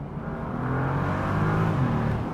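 A Bentley Continental GTC Hybrid at full throttle from EV mode, a steady rising engine hum and whir heard from inside the cabin. It swells gradually over a couple of seconds with no talking.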